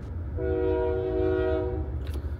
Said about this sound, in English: it is the train going by